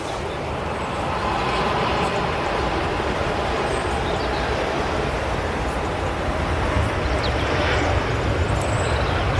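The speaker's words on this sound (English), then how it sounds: "is the Sun Express 737 MAX 8 from Antalya" A SunExpress Boeing 737 MAX 8 airliner arriving from Antalya at Manchester Airport makes a steady, loud, broadband jet roar that holds evenly from start to finish with no talk.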